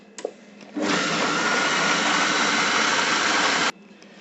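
Food processor whipping eggs at speed 5 for a flan, a loud steady motor whir that starts abruptly after a couple of clicks, holds evenly for about three seconds, then cuts off sharply.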